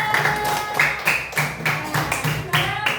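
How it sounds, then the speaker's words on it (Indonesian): Applause for a student group in a classroom: about eight rhythmic claps or taps in an even beat, fairly loud and close. "Tepuk tangan untuk kelompok 2."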